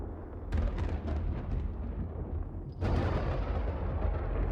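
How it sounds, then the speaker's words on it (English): Flashbang detonation in the fantasy video game Aethermancer, a sudden loud broad blast rising out of a rumbling low background, with a sharper burst and sustained roar following shortly after. "Flashbang."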